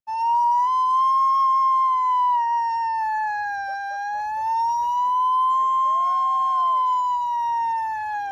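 An emergency ambulance siren wails loud and close, its rising and falling tone sweeping slowly and continuously with no other sounds.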